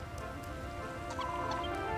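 Chickens cluck in Dragon Quest Builders 2, a few short clucks over a constant humming game backdrop, moderately close with no talking.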